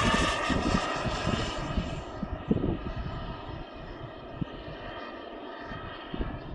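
A model airplane's engine drones at a distance, its pitch gently wavering as it flies past, with wind buffeting the microphone.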